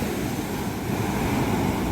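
Waves breaking along the shore at Panambur beach, a broad steady wash of surf mixed with gusty wind noise on the microphone, constant and unbroken without speech.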